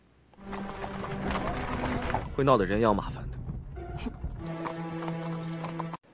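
Horses on a road in a historical drama clip-clop with rhythmic hoofbeats, heard beneath spoken dialogue and tonal sound.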